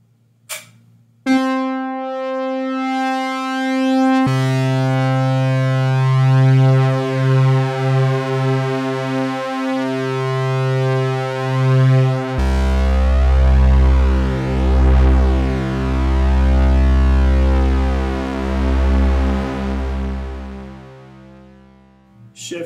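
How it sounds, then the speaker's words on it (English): A DarkSky-4 stereophonic analog polysynth in drift mode sustains bright, buzzy held chords whose pitches slowly wobble in and out of tune, shifting through several sustained notes with beating, chorus-like swirl before fading out. "Drift mode is a dynamic version of detune, which slowly tunes in and out."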